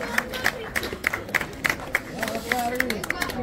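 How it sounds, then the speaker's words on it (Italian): A crowd applauds a cyclist at an autumn cycling race in Lonate Ceppino, with rhythmic, fairly close clapping and cheering chatter mixed in throughout. "Applauso! Bravissima!"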